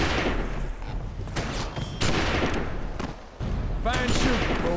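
Gunfire in the Western shooter GUN during a steamboat ambush, repeated loud shots and booms in a chaotic fight, near and dense, with brief lulls between volleys.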